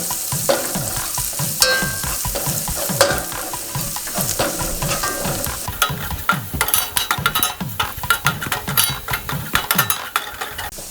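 Chili powder and fennel seed powder sauté in a hot pan with a loud, steady sizzle, while a spoon stirs and scrapes against the metal throughout.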